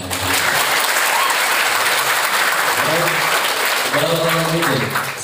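Applause from a large audience of ustadzah at a motivational gathering at Gontor Putri fills the hall steadily throughout, with faint voices rising beneath the clapping toward the end.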